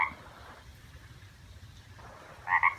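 A toad croaks loudly in short, bright double bursts at the start and end, standing out over a quiet, low background hum.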